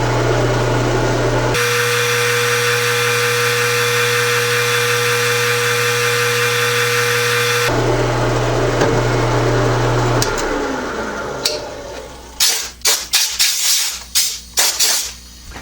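Drill running steadily through a 300 thick steel flange with a loud, continuous motor hum and grinding tone, then winding down into scattered clanks and metallic knocks as the work ends.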